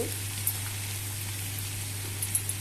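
Pumpkin curry cooking in a pan gives off a soft, steady sizzle with a few faint pops, set against a constant low electrical hum. Nobody speaks.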